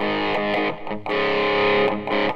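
An electric guitar played through a Boss DS-2 distortion pedal in mode 2 gives loud, nasal, saturated chords in short, sustained bursts, with brief gaps between them.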